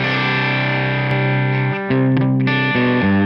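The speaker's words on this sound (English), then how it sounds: "Now we get more overdrive or distortion." An electric guitar runs through an overdriven, distorted amp tone from a Tonex pedal, with sustained gritty chords changing a few times, loud and continuous with no talk.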